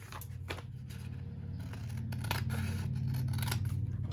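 Scissors cutting pink paper for a shabby Christmas envelope file folder, a series of close crisp snips and slicing strokes over a low steady background hum.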